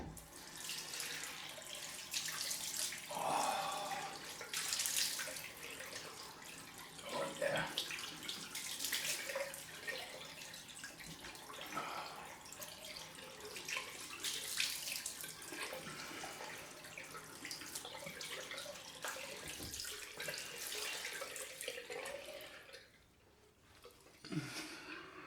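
A bathroom tap runs steadily for a cold rinse after a wet shave, water splashing and gurgling into the sink nearby for most of the stretch, then cutting off near the end, with no talking.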